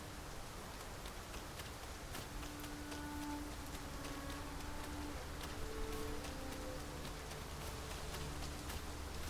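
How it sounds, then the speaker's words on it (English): Steady heavy rain falls in a video game, a dense even hiss with scattered drop ticks that runs the whole time, with faint tonal game music threading through and no talking. "We can push through a bit of rain, surely."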